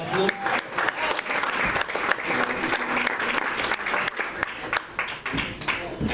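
A comedy club crowd bursts into sustained, dense applause and clapping that carries on throughout, with a voice talking over it.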